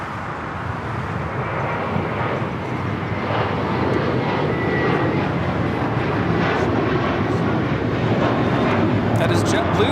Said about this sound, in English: That is JetBlue Flight 388 taking off to Boston on this A321 mint to soar.